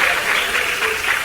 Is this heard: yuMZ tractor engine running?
no